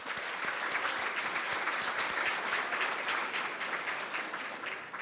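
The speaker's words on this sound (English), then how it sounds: "One more round of applause." Dense, steady applause fills a friendship dinner hall as the audience claps together throughout, loud and sustained with no voices over it.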